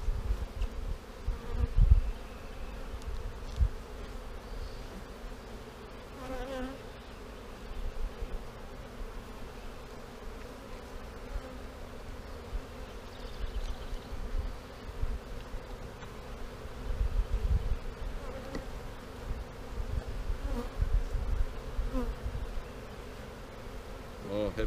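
Honeybees buzz around an open hive during a Snelgrove split, a dense, continuous drone with individual bees passing closer now and then, plus faint rustling from handling frames.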